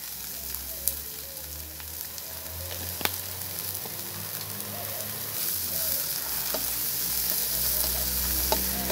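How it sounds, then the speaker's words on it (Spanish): Chopped onion and green chile sizzle steadily in a hot pan with oil, a close, continuous frying crackle with occasional sharp ticks of stirring. "Que se dore un poquitito la cebolla y el chile"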